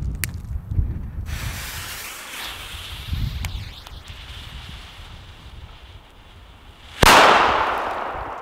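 A Pyroart China D firecracker explodes outdoors, one sharp, loud bang near the end that rings out over rustling, windy background noise, with no voices.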